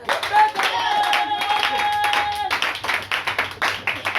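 A church congregation claps in praise of the king, a dense run of hand claps with a steady rhythm that tightens into sharper, more distinct claps toward the end, under sung or sustained voices.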